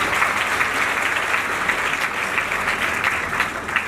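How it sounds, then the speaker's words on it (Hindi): Steady, dense applause from a large audience at an award and honours ceremony, loud and continuous throughout with no talk over it. "एक बार उन सभी के लिए तालियां बजाएं"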